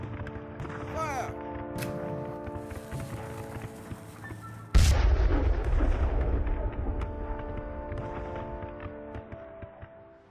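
British soldiers firing a musket volley, one loud booming blast midway with a long rumbling decay, preceded by music, shouted commands and hoof-like clatter, with speech and music continuing after.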